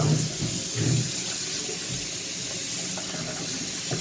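Hot water pours steadily from a tap into a sink, a constant rushing splash, close and loud, with a few brief clunks early on, as a piece of wood is rinsed.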